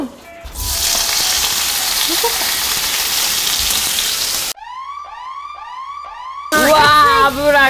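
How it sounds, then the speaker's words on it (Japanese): Thick bacon slices fry in oil in a frying pan, a steady loud sizzle for several seconds before the sound cuts abruptly to other noises. "フライパンに油をひいてベーコンを焼いていきます"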